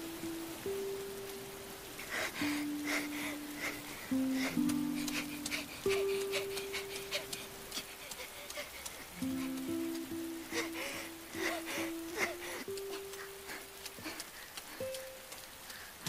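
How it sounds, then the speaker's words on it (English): Rain falls in an anime episode, a steady patter with scattered drops under soft, sustained musical tones, with a whimpering dog faintly mixed in. "It fucking starts to rain."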